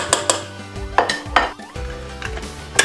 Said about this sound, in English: we're gonna have to scrape down our bowl a couple times. I'm just gonna break this up just a little bit just to get in there.